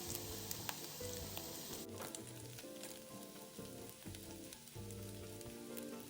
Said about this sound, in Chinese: 一直爆至虾米溢出香气后，加入备好的蒜末20克，一起拌炒。